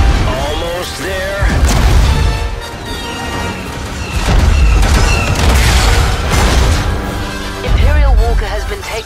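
Heavy explosions as bombers strike an armored walker in a Star Wars video game, loud repeated booms and crashes swelling in waves over dense battle noise.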